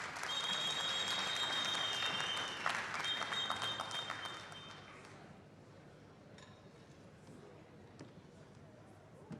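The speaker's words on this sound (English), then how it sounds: "let's give her a round of applause" Audience applause welcoming a speaker to the stage at an anti-corruption expo, loud and dense at first with a few glassy clinks, then thinning out to scattered claps after about five seconds.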